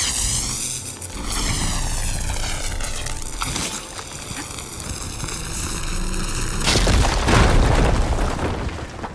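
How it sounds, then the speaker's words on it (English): A fire gleam blasted apart in Horizon Forbidden West, a loud sustained booming rumble with swelling roar that surges stronger toward the end, layered over droning game ambience with no talking. "Should be able to blow up that fire gleam."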